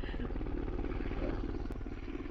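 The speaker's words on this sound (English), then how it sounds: "Look at that helicopter." A helicopter drones steadily with a rapid low rotor thump, loud and continuous, heard over a phone or video call line.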